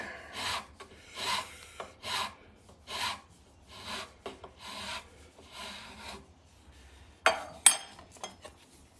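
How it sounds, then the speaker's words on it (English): A file rasps across the wooden neck of a guitar being shaped, in about a dozen separate one-direction strokes at an uneven pace, close and alone, ending with a couple of sharper scraping knocks. "File only cuts in one direction."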